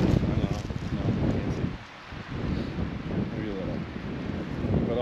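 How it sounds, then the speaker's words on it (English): Strong mountain wind during an archery hunt in Utah buffets the microphone in a steady low roar, easing briefly near the middle before gusting back up. "it got so windy all of a sudden."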